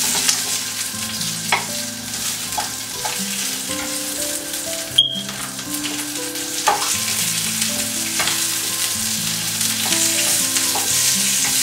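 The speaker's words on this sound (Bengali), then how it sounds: "খুব বেশি না, জাস্ট 3-4 মিনিট হালকা ভেজে নিব।" Food frying in a pan while a utensil stirs it, giving a steady sizzle with repeated scraping and clinking strokes, close and clear with no talking.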